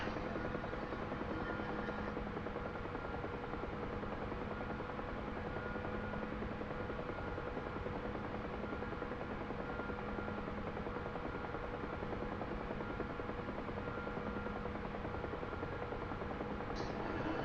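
A Huey gunship helicopter flies steadily, its rotor and turbine producing a continuous, even, close chopping drone with no pauses throughout.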